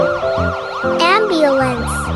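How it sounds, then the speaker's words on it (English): An ambulance siren from a children's vehicle collection sounds loud and close, with repeated rising and falling wails and a fast upward sweep partway through. "Ambulance."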